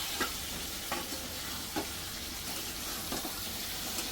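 Bananas dropped into a sizzling green masala gravy that has released its oil, producing a continuous close frying hiss with a few stirring scrapes and light clacks, steady and fairly quiet, with no voices.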